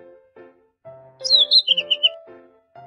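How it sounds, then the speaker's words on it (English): A cartoon bird chirps in a quick run of bright, high tweets, about six short notes bunched together, over light background music in a children's animal-sound guessing game. "Bird."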